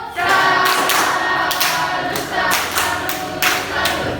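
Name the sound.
classroom pupils clapping in salute for Laura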